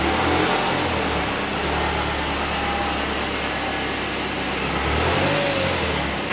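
A Mazda Speed6 engine revs continuously outdoors, loud and close, while still cold, with a rough, steady roar that swells and eases slightly without pause.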